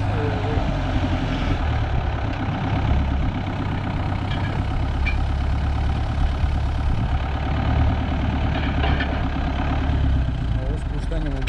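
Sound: tractor engine running

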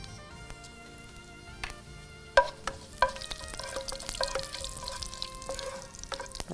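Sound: fennel and cumin spluttering while tempering in oil

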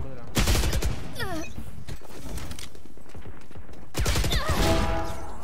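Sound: gunfire from the video game Valorant

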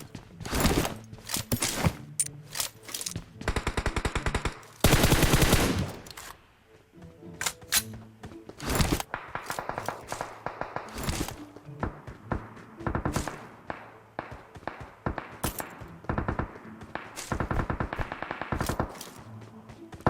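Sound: gunfire in video game PUBG Mobile

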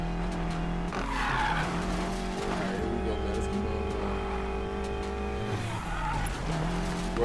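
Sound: BMW X6M driving on dirt in the video game Need for Speed Payback

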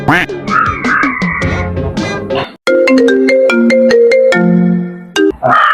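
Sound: phone ringtone of an outgoing call

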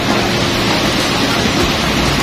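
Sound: waterfall, first tier of Tat Kuang Si Falls, Laos

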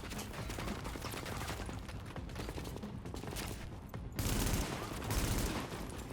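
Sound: heavy automatic weapon gunfire in video game The Division

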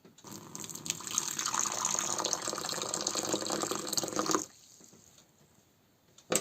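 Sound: boiling water being poured into a bowl

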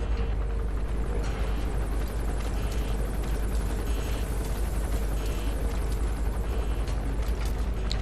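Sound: helicopter in Metal Gear Solid V video game

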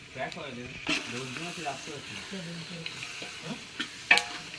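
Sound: stirring chicken frying in a pan

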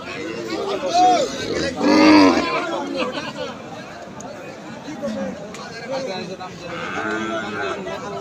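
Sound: cattle mooing at bull market

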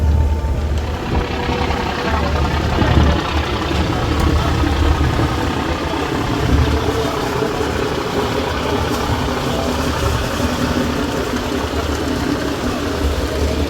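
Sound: passenger launch engine running

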